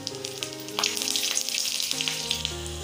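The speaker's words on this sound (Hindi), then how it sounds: "अब डाल देते 3 हरी मिर्च।" Green chillies drop into hot oil already holding cinnamon and cardamom, giving a crackling sizzle of frying spices, close and busy, with a steady low hum underneath.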